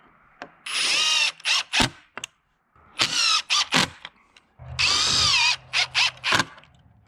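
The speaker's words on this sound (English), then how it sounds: "I'm going to finish screwing all these bottom brackets in" A power drill driving screws into bottom brackets of a DIY workbench built with Simpson Strong-Tie hardware: repeated whirring bursts of a second or so, separated by short pauses, close and fairly loud.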